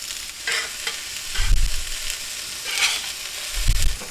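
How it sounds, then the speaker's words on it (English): Onions and warm green peppers sizzle loudly in a pan, a bright hissing fry that swells in a few bursts as the vegetables are tossed, with low thuds between. "let's add our onions and our slightly warm peppers"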